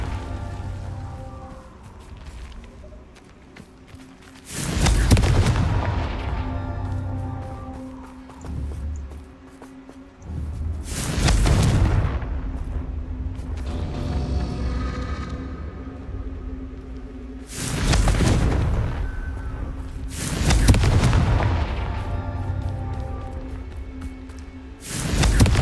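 Confringo blasting spells go off in Hogwarts Legacy as four loud, booming bursts spaced several seconds apart, each decaying into a crackling rumble over a quieter game background.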